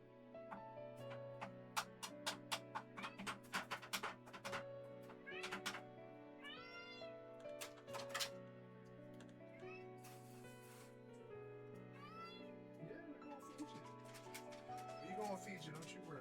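A pet cat meows repeatedly, several rising and falling calls close by, mixed with a man's speech and intermittent clicks and taps in an indoor room.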